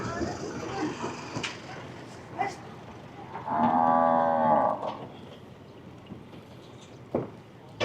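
Cattle at a livestock market in Wang Prachop, Tak, Thailand, give a loud, sustained moo of about a second in the middle, with scattered thumps and clatter and people talking through the busy pen.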